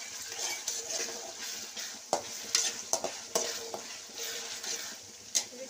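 Ginger garlic paste and tomato fry in a pan while being stirred, a steady sizzle broken by repeated scraping and clinking of the utensil against the pan, close and alone with no talking.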